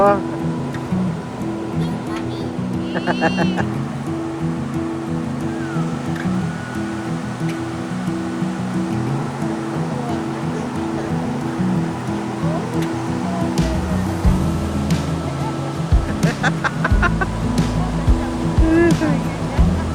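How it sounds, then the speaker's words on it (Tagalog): Steady roar of large ocean surf at Baler washing continuously, loud and close, with a voice and other chatter faintly over the waves. "Ang lalaki ng alon."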